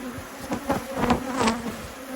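An aggressive honey bee hive being requeened with a Black Mountain F1 Buckfast queen, a close, agitated buzz with several swelling passes of bees flying near.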